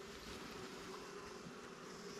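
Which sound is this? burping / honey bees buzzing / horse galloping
honey bees buzzing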